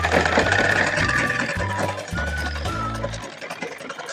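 A sewing machine stitches pajama fabric along the crotch panel, running in short rhythmic mechanical bursts with brief pauses before stopping near the end, over a faint background.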